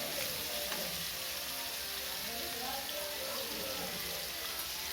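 Prawns frying in a pan for a prawn roast, a dense continuous sizzle held at an even level from start to finish.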